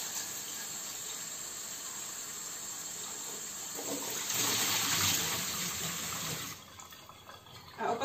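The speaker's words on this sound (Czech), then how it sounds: "Propláchneme studenou vodou." Cold tap water gushes steadily over boiled eggs, growing louder and fuller midway as it hits them, then drops to a lighter trickle near the end.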